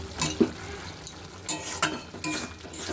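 Potatoes are stirred through spice paste in a pan, with faint, irregular scraping and clinking strokes of a spoon over a low background sizzle.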